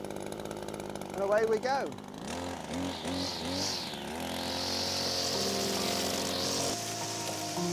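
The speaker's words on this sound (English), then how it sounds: "we pull the recoil and it should start straight away" A Cobra MT270K petrol multi tool is started with the recoil after choking and priming; a few rising cord-pull sputters lead to the engine catching and settling into a steady, high, buzzing whine, with brief speech early on.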